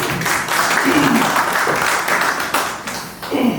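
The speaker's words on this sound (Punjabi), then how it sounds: "ਇਹਨਾਂ ਨਾਲ ਹੀ ਤਾੜੀ ਲਾਈ।" A crowd applauding, steady dense clapping throughout, loud and close, with some voices mixed in.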